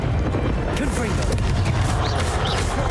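Confringo fire-blast spell in Hogwarts Legacy, a dense continuous rumble of booming bursts and crackles under a voice talking.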